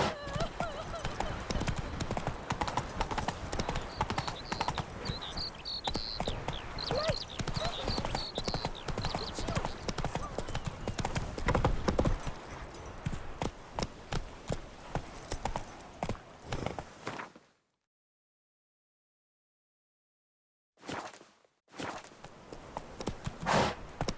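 Horse hooves clip-clopping at a steady gallop in The Witcher 3, loud and continuous with a brief silent gap near the end before the hoofbeats resume.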